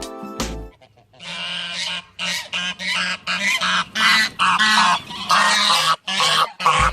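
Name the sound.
goose honking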